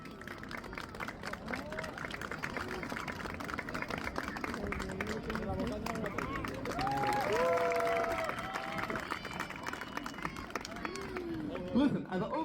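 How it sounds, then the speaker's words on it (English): An audience claps together in a large hall, a dense sustained patter of many hands mixed with crowd chatter and voices talking over it. "Big clap."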